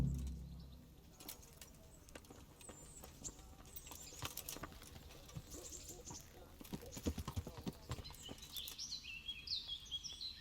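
Horse hooves clip-clop at a steady walking rhythm in the medieval video game Kingdom Come: Deliverance, moderately close, with birdsong chirping in the background.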